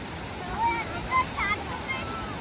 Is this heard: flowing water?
yes